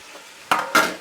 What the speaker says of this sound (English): So the pork is starting to get some color, so I'll add my onions to that as well.